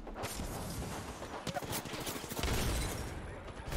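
A grenade blast and rapid gunfire go off in an Apex Legends battle, with dense bursts of shots and a sharp explosion while the players talk over the action.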